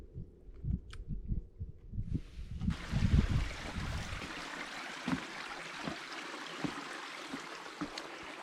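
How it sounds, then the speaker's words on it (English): A small woodland stream near Metcalfe Rock runs with a steady broadband wash of water. Early on it sits under close rustling and footsteps, then it continues alone as a constant, moderately near flow. "beautiful little stream."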